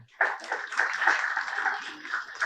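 A short burst of audience applause for a singer at a Tamil speech event, starting abruptly and holding as a steady, fairly close patter of many hands for a couple of seconds.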